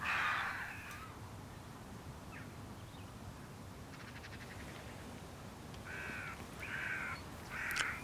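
Harsh, repeated jackdaw alarm calls burst out at intervals against a steady outdoor background on stubble fields, a sharp cluster near the start and three close calls toward the end.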